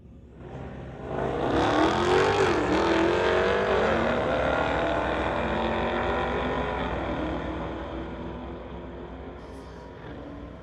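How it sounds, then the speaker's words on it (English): At a drag race, a BMW runs against a 2019 Dodge with a 392 Hemi, engines roaring up loudly as they launch, then the revving sweep fades gradually into the distance. "BMW in the TCS lane going against Clayton Schultz from Coquitlam, racing a 2019 Dodge, running a 392 Hemi"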